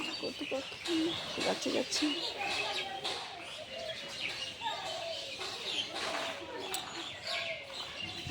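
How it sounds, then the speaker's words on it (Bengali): Many birds chirp and call at dawn in a leafy village garden, a busy overlapping chorus of tweets with some cooing, while a person talks over it at moderate volume. "কত পাখি এসেছে দেখো আর পরিবেশটা কত সুন্দর করে দিয়েছে সব পাখিদের কলকাকলিতে"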